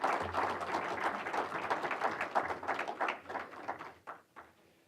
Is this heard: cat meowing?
no